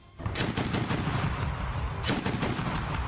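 A Russian tank fires its guns in news footage, giving loud, rapid bursts of shots that roll together, with a sharp fresh volley near the end.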